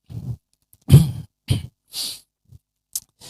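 A person feeling unwell coughs repeatedly, several short, sharp bursts spaced by pauses, close to the microphone and loud, with no talking in between.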